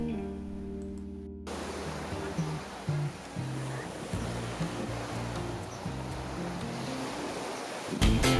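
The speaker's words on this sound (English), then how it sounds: "The waves break on the outer bank of the reef and gently roll in shore." Ocean waves breaking on the outer reef at Waikiki Beach and rolling gently ashore, a continuous broad wash of surf under soft background music, steady and fairly loud throughout.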